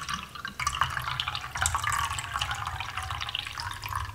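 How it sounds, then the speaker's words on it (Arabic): A paintbrush is rinsed in a water cup while preparing watercolour painting: close, light splashing and dripping with small sloshes, fairly steady over several seconds, without talk. "هنستخدم مية علشان نغسل فيها الفرشة بتاعتنا."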